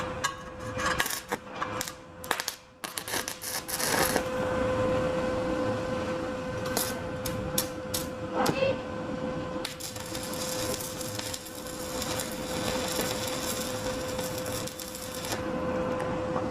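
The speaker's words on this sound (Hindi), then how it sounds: "हमने यहाँ पर एक टाँका और लगाया" An arc welder tacks metal through a weak ground connection, giving a few sharp sputtering bursts and gaps before settling into a steady crackling hiss with a faint electrical hum underneath, fairly loud and close.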